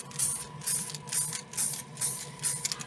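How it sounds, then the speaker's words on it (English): An aerosol can of grey Colour Forge primer sprays a miniature in a series of short hissing bursts, about five of them, each rising and cutting off over a steady faint background hum. "And I'm going to spray Luke"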